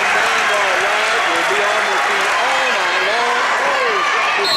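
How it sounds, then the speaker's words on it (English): A Southwood student crowd cheers loudly and continuously for its Lady Knights at a high school sectional volleyball match against Rochester. The broad, steady roar sits close and full, and voices rise and fall within it. "Southwood student body cheering on their Lady Knights."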